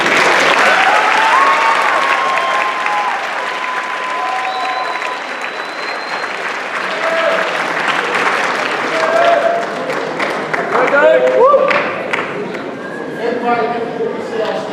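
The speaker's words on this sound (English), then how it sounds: "Let's give a nice round of applause." Sustained audience applause fills a school assembly hall, loud and steady throughout, with scattered voices and cheers mixed into the clapping.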